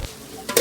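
Spiced masala and tomato frying in a pan for a broccoli, potato and pea curry, giving a short burst of sizzling and stirring that rises sharply toward the end.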